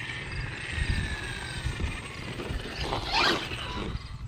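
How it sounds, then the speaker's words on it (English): An FMS Ford Bronco RC truck runs with its front tires rubbing, giving a continuous mechanical whir with rattling scrapes and a brief rising squeal near the end. "here you can hear like tires are rubbing on the front"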